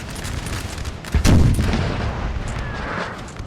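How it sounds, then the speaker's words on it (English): Ten-pounder cannons firing in a Napoleon Total War battle, with one heavy, booming shot rolling out over a steady rumbling din of distant gunfire. "10-pounders are still sort of shelling away."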